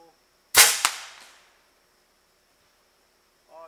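A small homemade NEST cannon fires with a sharp, loud bang and a quick second crack, then a short fading tail before near silence.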